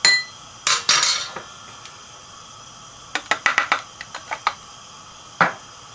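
Peshawari kheer being mixed in a pot with cardamom powder, a spoon tapping and clinking sharply against the rim, a few early knocks followed by a rapid cluster of light clinks, close and without talking.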